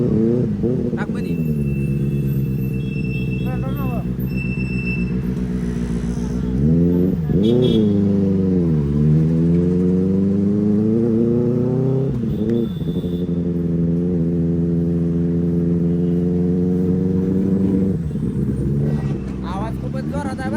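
A Benelli 600 motorcycle engine runs loud and close, a deep rumbling drone with rising and falling revs and a couple of sharp throttle blips, heard under talk.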